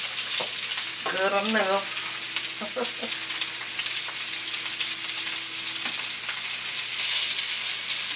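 Polska kielbasa sausage, browned on each side, fries in a pan with a steady, close sizzle that runs throughout, under a brief spoken remark and a short tonal whine.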